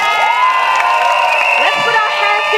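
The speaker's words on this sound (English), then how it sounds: "让我们以热烈的掌声欢迎人民行动党盛港团队" Rally crowd at a Singapore PAP election event for the Sengkang team at North Vista Secondary School, a loud, sustained wash of cheering and shouting voices with whoops, steady throughout.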